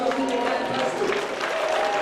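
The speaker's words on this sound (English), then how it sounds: "So give him all a round of applause, guys." Crowd applause after a main-event bout at a Rumble in the Jungle fight night, a moderate burst of clapping with some voices talking through it.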